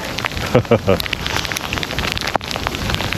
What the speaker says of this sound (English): I'd say that's more hail than freezing rain